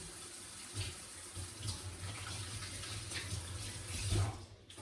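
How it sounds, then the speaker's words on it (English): Hands are washed under a running kitchen tap, a soft, continuous splash of water with small shifts as the hands move through the stream, fairly quiet and close. "So let's just wash my hands again."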